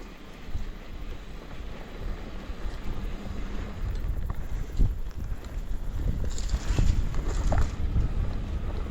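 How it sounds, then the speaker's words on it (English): Breezy wind blows steadily across the microphone on a smoky, hazy mountainside in the South Chilcotin Mountains, a broad rushing noise with gusts swelling and fading, heard alone without talk. "It's getting breezy too."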